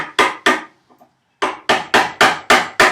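A chisel struck bevel down with a mallet to split a tenon cheek in wood at a workbench, two sharp blows, a short pause with faint handling, then a quick run of six evenly spaced loud knocks.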